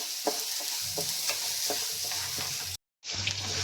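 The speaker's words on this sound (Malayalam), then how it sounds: "അപ്പം ഞാനിതൊന്ന് വറുത്തെടുക്കട്ടെ" Horse gram dry roasting in a pan, with a continuous dry crackle and sizzle plus repeated scraping stirs, briefly cut off before resuming.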